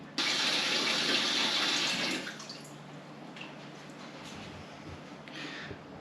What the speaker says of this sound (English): Now what you want to do is just give this stuff a rinse, just all the head and all the gunk in the head